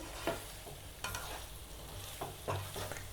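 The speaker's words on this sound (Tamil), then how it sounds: "மீல் மேக்கர் நல்லா ஃப்ரை ஆகிடுச்சு." Soya chunks coated with egg fry in oil in a pan, giving a soft continuous sizzle broken by a few scraping stirs, quiet and close, with no voices.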